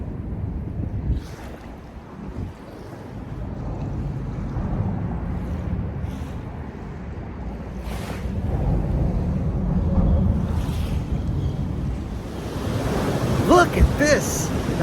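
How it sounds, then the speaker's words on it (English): Atlantic Ocean surf rolling onto a white sand beach in Boca Raton, Florida: a steady, broad wash of breaking waves with wind buffeting the microphone, building slightly louder toward the end, with no talking. "That's the Atlantic Ocean behind me."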